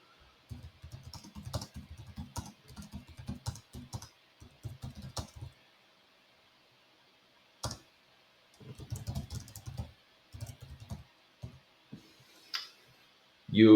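Typing on a computer keyboard while writing in a Spanish language-learning exercise: bursts of close, quick key clicks, a pause of several seconds, then more rapid typing runs.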